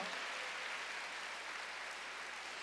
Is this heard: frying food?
no